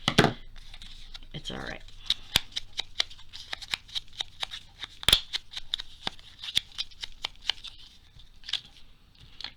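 Heavy cardstock cut from Amazon packaging is sliced with scissors in a series of crisp, close snips and rustles at an irregular pace, with a brief spoken remark early on.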